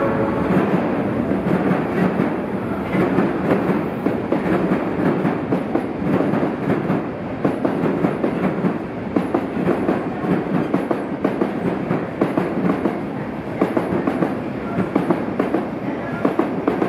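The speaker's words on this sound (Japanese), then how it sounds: "電車が発車します。" A train departs a platform at Shin-Osaka Station, rolling close by with a loud steady rumble and rhythmic clatter of wheels on track, sustained throughout.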